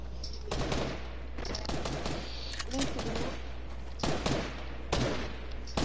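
Assault rifle fire in Fortnite squad gameplay, repeated bursts of close, loud shots in an uneven rhythm over several seconds, with voices talking underneath between the volleys.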